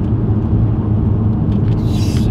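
A tuned 693 hp Audi RS4 B5 sedan accelerating hard, a loud deep engine rumble up close, with brief higher-pitched whine and rattle near the end.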